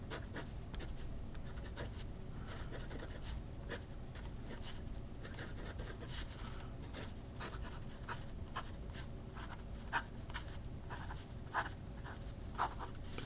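Franklin Christoph Model 19 fountain pen with a 1.9 mm stub nib writing on paper, soft scratchy strokes in short uneven bursts, quiet and close over a low background hum.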